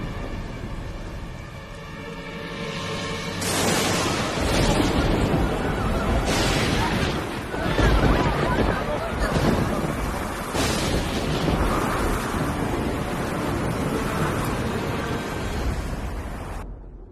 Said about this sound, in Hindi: ये तूफान तब तक थमना नहीं चाहिए जब तक वृंदावन पूरी तरह पानी में डूब न जाए